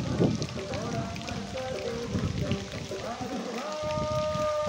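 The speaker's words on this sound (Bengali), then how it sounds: "প্রচুর পরিমাণে বৃষ্টি হচ্ছে।" Heavy rain falling under a jackfruit tree, a dense steady patter on surfaces, with a person talking over it and tonal music from loudspeakers faintly in the background.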